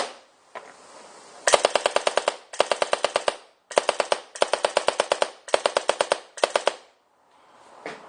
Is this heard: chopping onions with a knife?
no